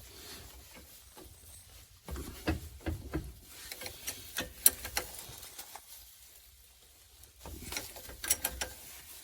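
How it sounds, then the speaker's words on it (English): A car jack is worked by hand beneath a Porsche Cayman or Boxster during a coolant pipe job, giving soft, irregular mechanical clicks and ratcheting ticks in bursts with a quiet pause midway, fairly faint and close. "I'm literally just doing the jack by hand."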